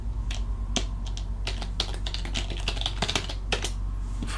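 Keys clatter on a computer keyboard as a password is typed during a RebornOS Linux install, a quick irregular run of close, crisp clicks over a low steady hum, with no talking.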